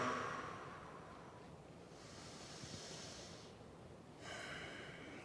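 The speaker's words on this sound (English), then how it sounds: "Breathing nice and deep," Deep breathing during a lower-body stretch, slow airy inhales and exhales close to the microphone, soft and breathy with no speech over them.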